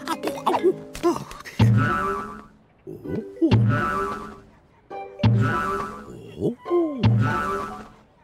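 Springy cartoon boing sounds repeat in a steady rhythm as someone bounces on a trampoline in an animated comedy, each bounce followed by a rising twang, with grunts and a voice between jumps.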